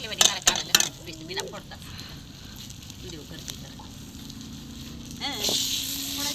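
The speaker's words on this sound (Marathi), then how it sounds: "छान परतून घेतल्यानंतर हा सगळा मसाला आहे तो तेल सुटेपर्यंत भाजून घ्यायचा" Chicken masala roasting in oil in a pot over a village-style wood-fired clay stove, a steady soft sizzle and crackle with a few sharp clinks of a spoon against the pot, continuing through the clip.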